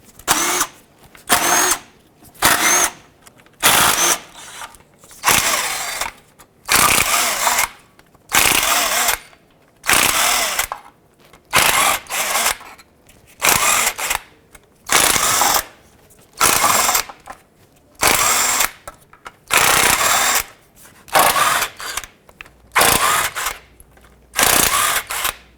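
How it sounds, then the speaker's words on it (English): Bolts coming off the transmission pan of a 2008-2010 Ford F-250, turned with a 10mm socket on a powered ratchet: a steady run of loud, close buzzing whirs, each lasting about a second, with short pauses between them and no talking. "take your 10mm socket, go around the transmission, and remove all the 10mm bolts that hold the pan on"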